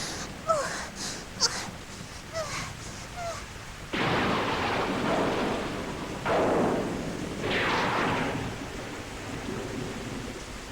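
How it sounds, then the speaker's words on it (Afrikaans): Rain pours down steadily in surging bursts, with a few sharp cracks and low rumbles of thunder early on. "O, gonas, daar reën dit."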